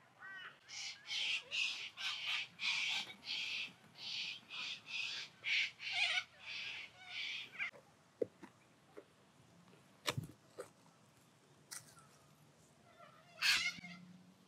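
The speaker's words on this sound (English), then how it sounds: "What's going on, birds?" Birds squawk at an Australian park with harsh, repeated caw-like calls in a steady run for several seconds, then fall quiet, leaving a few scattered clicks and faint calls.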